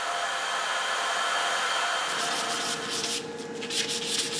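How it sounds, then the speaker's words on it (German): A sanding machine grinds the metal tubes of a French horn in a workshop, a loud steady abrasive whir that runs continuously, then shifts to a rougher, slightly pulsing rasp near the end. "Die Schleifmaschine ist eine große Hilfe, aber die ganze Arbeit kann sie nicht erledigen."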